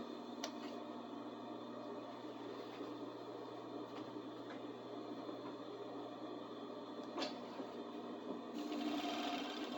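A sewing machine stitches stretchy fabric with a steady, fast mechanical whir and hum, fairly quiet and continuous, a few faint clicks along the way, no talking.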